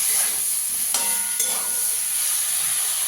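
Tomato and coriander leaves being stirred through a mix in a pan, a soft continuous scraping and sizzle with a couple of brief louder clinks near the start, no voices.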